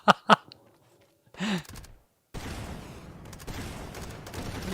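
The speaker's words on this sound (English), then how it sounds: "Yay, Rocket Jump." Rocket jump blast in the VR shooter Meat Fortress: two sharp, loud bursts in quick succession, a brief whooshing thump a moment later, then a steady rush of game noise.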